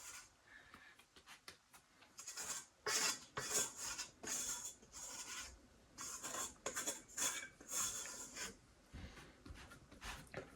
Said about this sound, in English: Scraping it out of the pan.